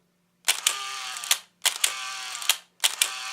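Three shutter releases of a Mamiya Sekor DTL 500 film camera at 1/60th second, each a mechanical clack followed by a whirring wind and a second snap, evenly spaced and close-up in a quiet room.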